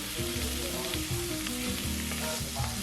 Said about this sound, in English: Then we added the fresh tomatoes in the pan and just cooked them out for a while.